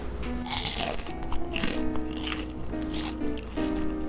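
Crisp crunching bites into puffed, fried potato balls made with rice flour, followed by chewy chewing, close up and fairly quiet, repeating several times with soft squishy sounds between.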